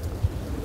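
An Angeletos pigeon coos once, low and soft, in a short burst over faint background noise at close range.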